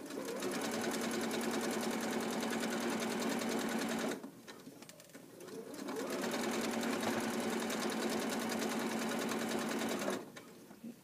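A sewing machine runs steadily as it stitches a folded fabric hem on shorts, a loud, even motor whir with rapid needle ticking that stops briefly for about two seconds and then resumes before halting.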